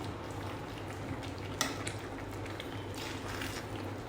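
Dal khichdi with lemon juice is stirred in a pot, giving soft, steady wet squishing and scraping with a faint bubbling hiss and one brief sharp clink of a spoon against metal.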